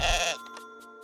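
A short sheep bleat from the video game Welcome, Dear Human, a single loud nasal cry lasting a fraction of a second and then fading, with faint music continuing behind it.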